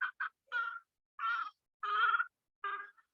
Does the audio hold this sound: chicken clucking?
yes